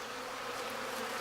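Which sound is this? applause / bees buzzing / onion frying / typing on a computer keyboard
bees buzzing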